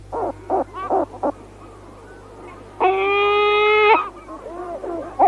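A male gull mews at a nest site, a sustained wavering cry near the middle preceded by several short, clipped calls, with other bird calls around it.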